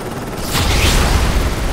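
Gunfire erupts in the Call of Duty: Modern Warfare 3 campaign, a sudden loud burst of booming shots with a heavy rumbling tail over a busy battle background.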